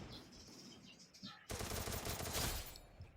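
Gunfire in the mobile battle-royale game Free Fire: a quiet start of scattered game sounds, then a sudden sustained burst of rapid automatic fire, dense and fairly loud for over a second before tapering off.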